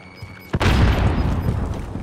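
A frag grenade in Call of Duty: Modern Warfare detonates with a sudden, loud, close boom, followed by a rumbling, crackling tail that fills the rest of the moment.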